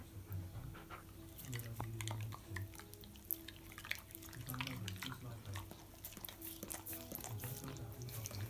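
A husky chews raw meat on the floor, with wet, irregular biting and smacking sounds, soft panting and faint dripping at close range, fairly quiet throughout.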